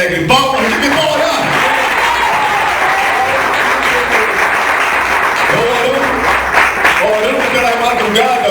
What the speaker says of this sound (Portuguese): Agora glorifica a Deus com palmas bem alegres. Palmas de vitória!